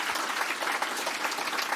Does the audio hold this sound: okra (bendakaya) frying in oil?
no